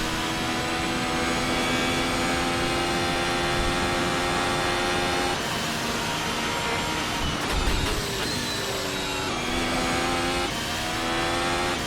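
A 2021-spec Formula 1 car engine screams at high revs through a lap, its sustained harmonic whine holding steady, dipping and shifting pitch briefly mid-run before climbing again, loud and continuous.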